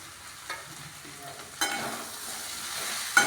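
Turmeric, ground coriander, salt, sugar and garam masala are stirred together frying in a pan for a potato-and-paneer dish: a quiet, steady sizzle with a few soft scrapes of the spoon, one sharper stir near the end.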